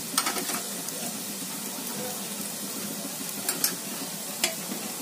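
A spoon scrapes and stirs coriander, garam masala and salt into a veg kebab mixture in a pan, a soft continuous rustling texture broken by a few sharp taps against the pan.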